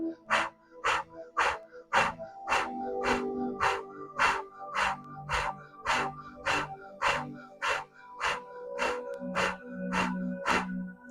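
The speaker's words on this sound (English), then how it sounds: "you're going to be breathing rapidly through your mouth as you pull the core towards your spine" Rapid, forceful mouth breathing during a yoga breathing exercise, a long run of evenly spaced sharp exhalations about two per second, close and loud, with a soft music bed underneath.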